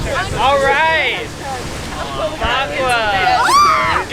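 Strong wind buffets the microphone outdoors on the Boston Esplanade, a steady loud roar with gusts, while several people talk over it with rising, animated voices.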